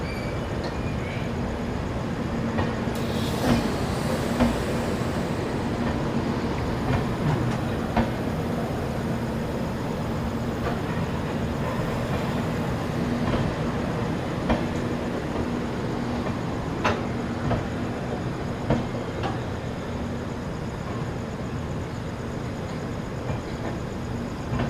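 Ramnagar Dehradun Express train standing at Motichur railway station platform, with a steady continuous rumble and hum of the train throughout, faint intermittent clanks and metallic clicks, no talk.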